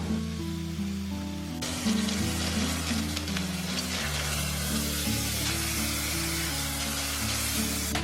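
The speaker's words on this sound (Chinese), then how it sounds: "接着我们就可以下入这个牛肉粒，保持中大火煎" Beef cubes hit smoking-hot oil in a wok over medium-high heat and burst into a loud, close, continuous sizzle and crackle that holds steady over a low background hum.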